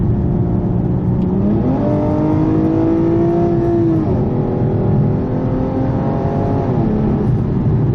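Aston Martin Rapide engine revving hard under full-throttle acceleration, a loud, continuous near roar with rising pitch sweeps as it climbs through the gears, no talking.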